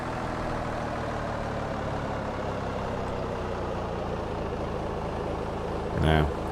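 A pushback truck drives up to an airliner in the X-Plane 11 flight simulator, its engine a steady low drone that continues throughout, with a brief louder burst near the end.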